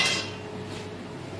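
A kadhai pan being lifted off a home kitchen stove, a brief close metallic clank at the start fading into quiet room noise.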